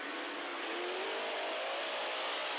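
Bigfoot monster truck thundering through a U.S. Hot Rod Association race, a steady loud engine roar with a slowly rising tone, sustained throughout.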